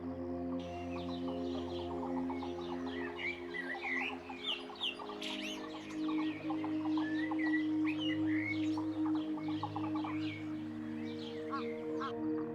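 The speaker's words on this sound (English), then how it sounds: "A solitary bird calls into the silence and waits for an answer." A lone wild bird in the African bush gives repeated chirping, warbling calls against a steady low hum of ambience, fairly close and alone without talk.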